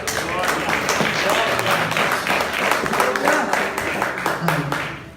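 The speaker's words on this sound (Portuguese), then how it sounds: "Podemos assentar aplaudindo ao nome de Jesus?" A church congregation applauds in a dense, continuous wash of many overlapping claps that holds steady for several seconds before tapering off, with voices mixed in.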